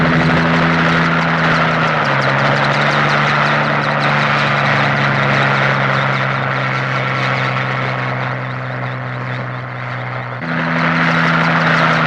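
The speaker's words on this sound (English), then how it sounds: "Another helicopter" A helicopter's rotor and engine drone loud and close for the whole stretch, holding a steady pitch that dips briefly and then rises again near the end.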